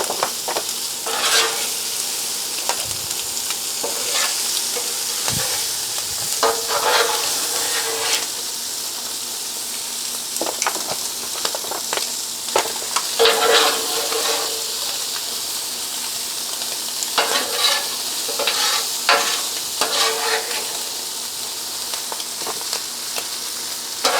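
Vegetables for shrimp and grits sizzle in a hot pan while being stirred, a continuous close frying hiss broken by repeated scraping and clattering stirs throughout, with no talking.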